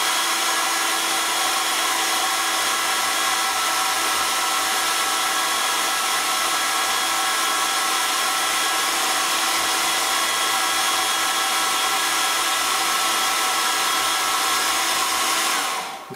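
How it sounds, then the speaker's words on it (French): A hair dryer blows hot air to warm chocolate, a loud, steady whirring roar that runs without a break for the whole stretch and cuts off at the very end, with no voices. "vous prenez le sèche-cheveux et vous réchauffez le chocolat."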